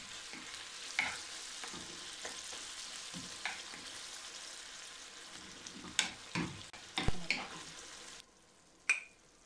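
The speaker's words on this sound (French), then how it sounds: "Et on va cuire ça tranquillement." Ground beef and potatoes frying in a pan for a gratin, a steady soft sizzle with scattered crackles and a few louder pops and stirring scrapes near the end, no talking.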